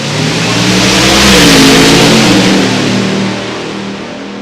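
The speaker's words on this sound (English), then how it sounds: "The Anglia gets down track to a 705 at 194." An Anglia drag racing car accelerates hard down the strip at a hot rod reunion, a loud, close engine roar that builds and holds, then eases off as it pulls away.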